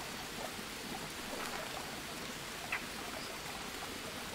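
Steady broadband rush of a flowing jungle river in the survival game Green Hell, a continuous even wash of water with a faint click near the end, no voices.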